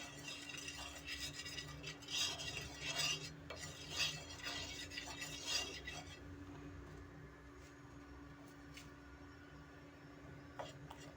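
Butter is spread across slices of bread for a vegetable masala bread roast, with soft, quiet scraping strokes in uneven rhythm that fade to near silence in the second half.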